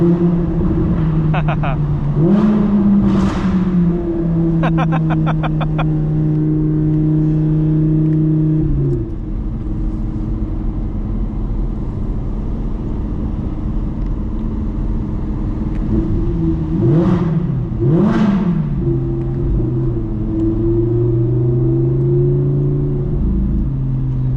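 A supercar engine revs hard after a downshift, its pitch climbing and dropping through sharp blips and sustained howls, loud and close over steady road rumble.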